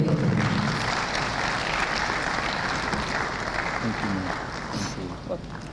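An audience at a South East venture capital program event in Enugu applauds after a presentation, sustained clapping filling the room with talking mixed in.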